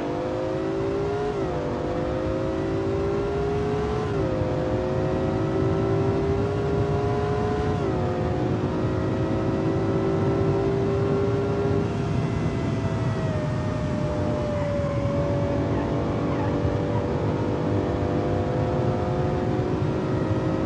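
A supercar engine in BeamNG.Drive driven with a manual gearbox, a loud steady drone whose pitch climbs and drops sharply at each gear change, continuous throughout with no talking.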